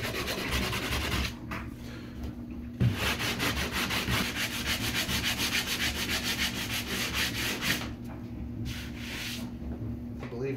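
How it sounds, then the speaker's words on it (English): Taped drywall joints are sanded by hand before recoating in a bathroom remodel. The sheet scrapes in steady, close back-and-forth strokes, with short pauses between runs of rhythmic rubbing. "So I'm gonna sand this down and then we're gonna coat it again."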